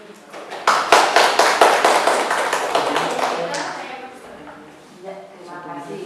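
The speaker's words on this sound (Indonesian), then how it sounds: "marilah kita bersama-sama memberikan aplaus kepada beliau" An audience at a vocational school internship briefing at SMK Wahidin in Cirebon bursts into hearty applause that peaks quickly, then thins out and fades, with a voice speaking as the clapping dies down.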